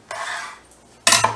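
A kitchen knife drops through the joint of a whole raw chicken on a cutting board, giving a brief clatter and scrape, a pause, then a sharper, louder clack of blade meeting board, close by.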